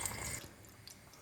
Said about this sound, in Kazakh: Қайнап піскеннен кейін суын төгіп,